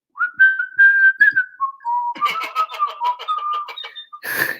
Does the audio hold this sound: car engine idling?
no